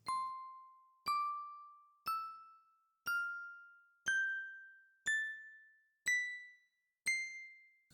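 Eight clear bell dings sound alone at even one-second intervals, each ringing out and decaying, the pitch stepping slightly higher with every strike.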